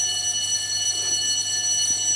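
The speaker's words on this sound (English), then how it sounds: "There's our bell" A school bell rings steadily at lunchtime for about fifty students, a sustained electric tone with bright harmonic overtones holding at an even level throughout, heard alone with no voices.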